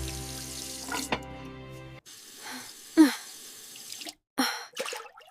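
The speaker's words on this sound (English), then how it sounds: "I am rinsing the soap now." A heavy bowl rinsed under a running kitchen tap, with gushing water in bursts, splashes and clinks between short gaps, close and moderately loud.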